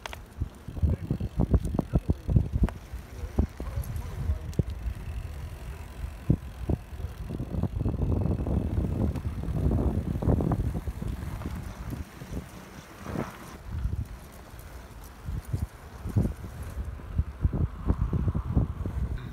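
A Pinion Drive HP Scorpion 26 electric bike with a GoSwiss motor and two batteries rolls along outdoors, its tyres crunching and rattling over rough ground in steady ticks and thumps under constant wind noise on the microphone.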